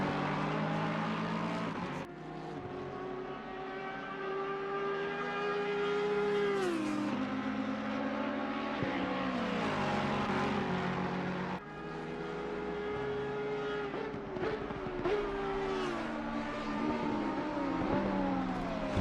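Race cars lapping Mount Panorama during an endurance race, with engines rising and falling in pitch through gear changes, loud and continuous, with short dips as cars shift.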